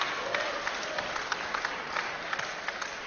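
A crowd at a boxing match between Chris Truman and Johnny Greaves applauds and cheers in a steady, dense wash of noise with scattered sharper claps.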